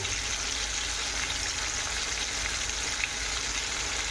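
Salted potatoes fry in a pan in a hotel room, giving off a loud, steady sizzle with dense crackling that holds evenly from start to finish, close up and with no talking.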